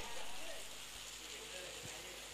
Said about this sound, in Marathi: मुसळधार पाऊस सुरू आहे